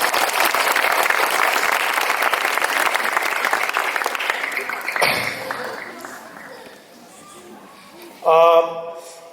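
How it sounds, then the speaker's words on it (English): A graduation crowd applauds the principal and teachers with loud, dense clapping that fades after about five seconds, leaving quieter room sound and a short burst of voice near the end. "This calls for a big round of applause to the principal and all the teachers."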